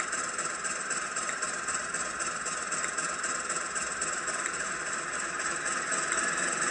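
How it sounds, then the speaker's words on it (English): A steady mechanical engine hum from a model Class 56 diesel locomotive with a faint rattle, holding at a constant idle-like drone throughout with no voices. "the engine has just started to ramp up a little bit"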